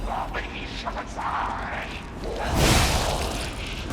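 A loud burst of explosion noise from the game Lies of P swells near the end, broad and rumbling, after a stretch of muffled in-game clatter.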